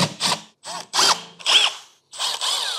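Power drill backing screws out of a WattCycle 24V battery case, five or six short close whirring bursts with rising and falling pitch, separated by brief pauses.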